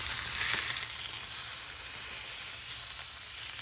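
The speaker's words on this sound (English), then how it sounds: "Turn the steak over and cook for 4 to 6 minutes" A thick steak for bistecca Florentine sears in a hot pan with a steady, loud sizzle and hiss that holds unbroken throughout.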